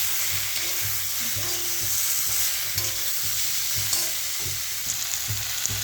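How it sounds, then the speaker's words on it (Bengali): Olive pickle mixture with turmeric and salt fries in a pan, a constant close sizzle under repeated thumping scrapes of a spoon stirring at an uneven pace. "এটা একটু নাড়াচাড়া করে ভাজে নিচ্ছি"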